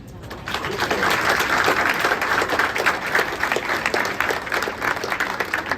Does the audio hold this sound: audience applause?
yes